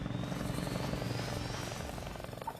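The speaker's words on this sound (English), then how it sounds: "Helicopter on station." A helicopter holds steady nearby, its rotor chop a constant pulsing drone at moderate level throughout, with no voices over it.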